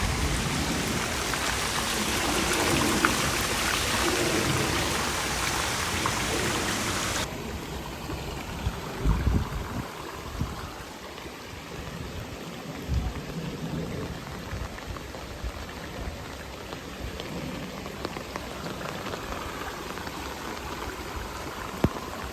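Heavy rain pours outdoors in a steady, dense broadband hiss, louder at first and then settling into a continuous downpour with scattered drops and splashes nearby.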